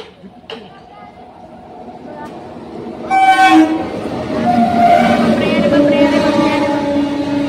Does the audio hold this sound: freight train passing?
yes